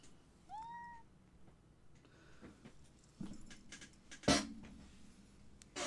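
A Maine Coon ragdoll cat meows once, rising and clear, in a quiet room, followed by faint shuffling and a sharp clatter near the end.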